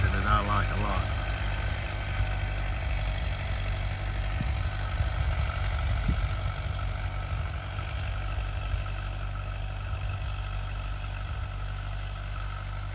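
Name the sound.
Farmall 404 tractor engine running at half throttle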